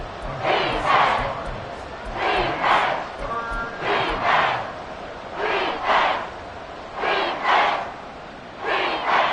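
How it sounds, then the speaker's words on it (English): A stadium crowd in an American football video game roars in repeated swells, rising and falling about every second and a half, loud and continuous at a playoff wildcard game against the Texans. "Crowd on their feet."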